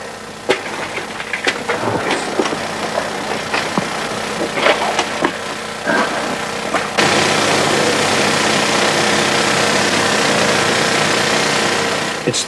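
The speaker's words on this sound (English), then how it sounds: "One man operates the drill, one checks the equipment, one directs water to cool the drill." A rock drill running in a hot, wet stope of a South African mine, cooled with water: loud, continuous pounding machine noise with irregular clatters, rising to a denser, harsher roar halfway through.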